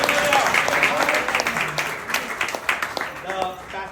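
Scattered clapping from a church congregation during a Telugu sermon, sparse sharp claps mixed with talk and voices throughout.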